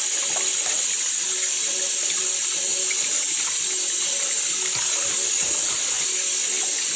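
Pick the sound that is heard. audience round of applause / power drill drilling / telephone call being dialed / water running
water running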